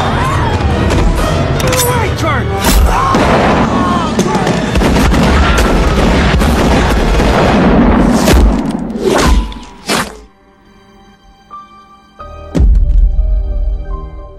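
Gunshots in a film scene, a rapid volley of sharp, loud bangs and thuds over a dense, chaotic soundtrack, then a near silence broken by a few more isolated shots.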